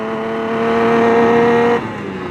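A TA125 tribute motorcycle engine held at a high, steady rev around 6,000 RPM, then dropping off abruptly as the throttle is released, heard up close.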